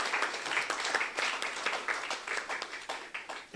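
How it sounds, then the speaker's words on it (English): An audience at a Brahmin business forum's chapter ceremony gives fraternity members a round of applause, with moderate, steady clapping from many hands and a few sharper individual claps standing out. "Please give a big round of applause to them."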